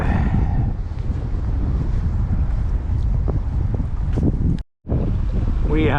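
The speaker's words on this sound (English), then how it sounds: "Oh, the wind is brutal." Strong wind gusts roar and buffet the microphone steadily on a night of salmon fishing from a boat, with a sudden brief dropout near the end and faint voices underneath.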